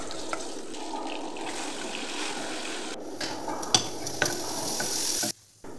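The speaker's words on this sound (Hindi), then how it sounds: "अभी अंडे को लाल होने तक अच्छे से फ्राई कर ले।" Boiled eggs coated in turmeric, red chili powder and salt frying in oil, a steady hissing sizzle with a few sharp clicks of a utensil, cutting off abruptly near the end, no speech.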